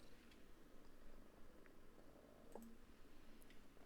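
A house cat purring close up, a soft continuous rumbling drone held steady throughout, with a couple of faint clicks.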